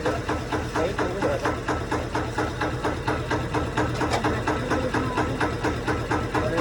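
A tractor engine runs steadily close by, its rapid, regular knocking pulse continuing throughout at moderate loudness with faint background murmur.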